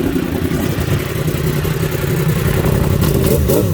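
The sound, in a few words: Yamaha R1 motorcycle engine revving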